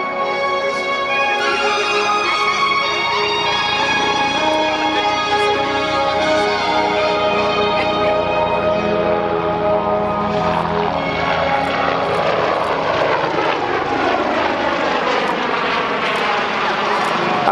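BK-117 helicopter flying a display at an air force museum airshow: a loud, continuous rotor and turbine roar with steady tonal whine that shifts in pitch midway, as if the aircraft moves overhead, with a commentator talking over it.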